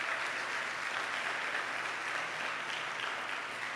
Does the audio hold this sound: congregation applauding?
yes